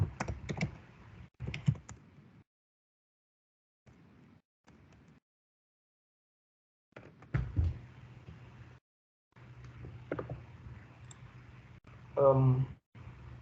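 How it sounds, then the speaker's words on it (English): Bursts of clicking keystrokes from a computer keyboard, typed in short irregular runs with pauses between, fairly close and quiet. "I think that I'm typing."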